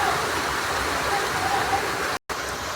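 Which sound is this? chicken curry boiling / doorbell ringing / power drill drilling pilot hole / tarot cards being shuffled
chicken curry boiling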